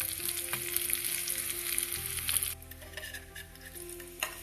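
Chopped garlic and curry leaves fry in hot oil for a raw tomato chutney, a close, crackling sizzle that settles abruptly to a quieter bubbling hiss partway through.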